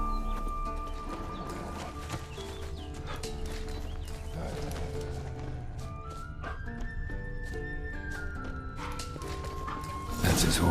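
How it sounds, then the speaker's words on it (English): Hooves clip-clop from Eskel's horse Scorpion in The Witcher 3, rhythmic steps moving over ground amid game music and occasional whinnies, with a voice talking over parts of it. "That's his horse."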